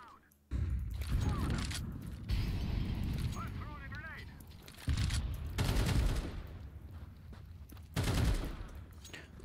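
AK rifle fire in Counter-Strike 2 cracks in several loud rapid bursts separated by short pauses, near and dense, with a voice talking over parts of it.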